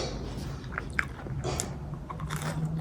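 Close crunchy bites and chewing of crispy fried onion bhaji, several crisp crunches over a soft steady background hum.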